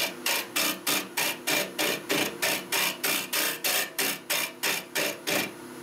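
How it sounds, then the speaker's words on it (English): A wood lathe spins a workpiece against a cutter tool, producing loud, evenly spaced rasping bursts of scraping, about three per second, with no talking. "I'm going to switch the lathe on back to the speed it was."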